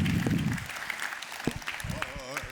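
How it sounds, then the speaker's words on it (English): Applause from a crowd at a San Diego Rotary Club presidential roast, a dense patter that fades within the first second and gives way to voices talking. "Of course we applaud"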